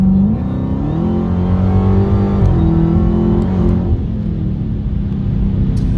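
A supercharged Hellcat engine revs loudly and steadily on a dyno for several seconds, its droning pitch shifting up and down as it pulls hard, close by.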